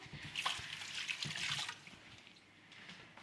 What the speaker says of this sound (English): I'll just wash my hand